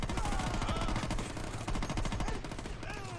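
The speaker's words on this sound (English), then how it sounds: "This is a cool gun." Rapid automatic gunfire from the video game Saints Row rattles steadily and loudly in a continuous burst, close and dominant with no pauses.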